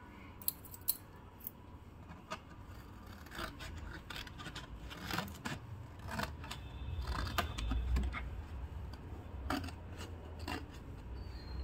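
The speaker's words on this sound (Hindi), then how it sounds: "ये मैंने कार्डबोर्ड ग्रीन टी का डब्बे का ही काट लिया है" Cardboard from a green tea box being cut with scissors, heard as close, quiet snips, rasps and rubbing scrapes in irregular bursts, with a low rumble in the middle, no talk.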